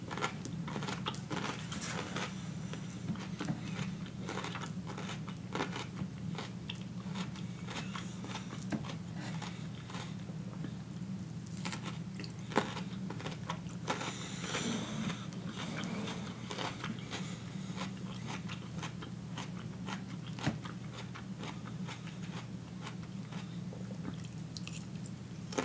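Biting and chewing a raw cucumber up close, with irregular crisp crunches and wet mastication sounds repeating over a steady background, no talking.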